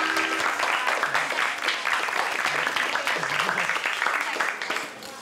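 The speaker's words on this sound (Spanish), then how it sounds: "Propongo, antes de comenzar la clase, que le brindemos un fuerte aplauso a Carolina, nuestra heroína." Applause in a classroom: a group of people clapping steadily and fairly close for several seconds, tapering off at the end, with some voices mixed in.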